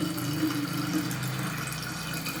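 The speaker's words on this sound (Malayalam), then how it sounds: "അരിച്ച് വെച്ചേക്കുന്ന ബീട്രൂട്ട് ജ്യൂസ് ഒഴിച്ചു കൊടുക്കാം" Strained beetroot juice poured into a wine bottle for homemade wine, a steady continuous splashing flow of liquid lasting the whole moment, close and fairly loud with no voices.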